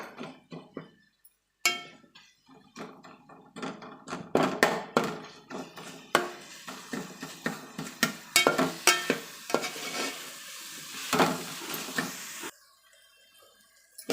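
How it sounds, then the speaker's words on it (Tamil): Tomato and onion for paneer biryani sauté in a pan, with repeated scraping stirs and metallic clinks over a soft sizzle, close and rhythmic, then falling quiet at the end. "இந்த தக்காளி வெங்காயம் எல்லாம் நல்லா குழஞ்சி வர அளவுக்கு நல்லா வதக்கிக்கலாம்."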